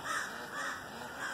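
Several crows cawing loudly and close by around a farm barn, harsh calls overlapping continuously for the whole moment with no talk.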